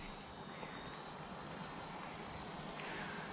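Mini RC helicopter flying at full throttle outdoors, a faint, continuous high-pitched motor whine with a broad airy rotor rush, steady throughout with no talking.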